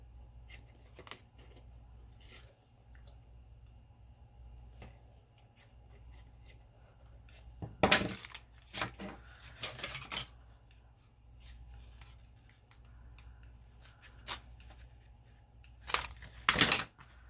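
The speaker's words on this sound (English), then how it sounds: "I'm going to cut this stitch out" Scissors snip out a stitch on a papercraft project, several crisp, close cuts in short clusters separated by quiet handling rustles.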